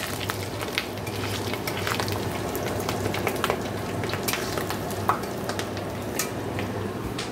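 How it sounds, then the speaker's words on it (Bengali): Fish roe mixed with onion, salt and turmeric fries in a pan with a steady crackling sizzle. Occasional sharp pops and light stirring clicks sit close and clear. "তো মাছের ডিমটা দেখো দিয়ে দিয়েছি, এই যে ভেজে নিচ্ছি"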